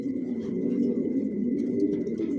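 Racing homer pigeons of a Janssen line coo steadily inside a loft, a continuous low throaty rolling from several birds close by, with a faint steady high hum behind.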